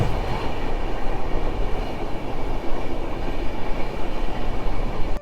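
A passenger train on the Ahmedabad to Udaipur railway route near a provincial station, with a steady loud rumble and rattle of wheels on track running continuously throughout, no voices.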